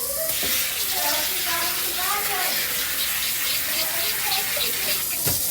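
Tap water runs steadily into a kitchen sink while ingredients are rinsed for chicken drumstick kimchi jjigae, a continuous close hiss and splash throughout, with faint voice-like sounds underneath.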